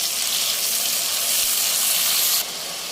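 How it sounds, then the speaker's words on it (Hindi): A tomato dropped into a pan of frying onion and ginger-garlic paste, giving a steady, loud, hissing sizzle that carries on without a break before it suddenly drops to a quieter hiss near the end. "अब हम इसमें 1 टमाटर डालते हैं"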